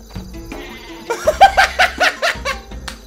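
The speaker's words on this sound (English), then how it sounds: "Suiciding sheep, apparently." Suicide sheep weapon in the Worms video game bleating repeatedly, a run of loud, rhythmic bleats over roughly two seconds following a quieter game sound, with no talking.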